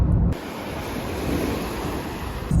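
Sea waves breaking on a fine-sand beach on Rhodes: a loud, steady surf roar with strong wind buffeting the microphone, and a brief swell in rushing noise at the start and end.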